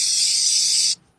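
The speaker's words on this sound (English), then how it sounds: "Just spray the part down" Cleaner sprayed onto a metal motorcycle part during a restoration: one steady, loud hiss lasting about a second, then cutting off sharply, with nothing else heard.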